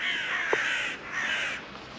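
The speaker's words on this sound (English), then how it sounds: "The crows are noisy." Crows caw outdoors in two long, harsh calls of even length separated by a brief pause, moderately loud and slightly distant, with no talk.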